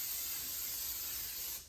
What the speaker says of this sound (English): We're gonna spray it with nonstick cooking spray